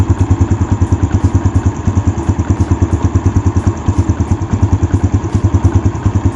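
Motorcycle engine idling loudly and close with a fast, even ticking rattle from a loose cam chain and slack tensioner, the clatter repeating rhythmically throughout without talk.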